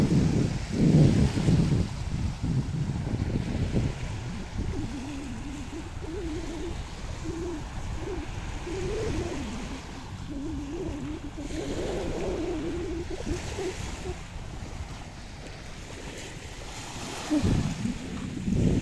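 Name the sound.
strong sea waves at the beach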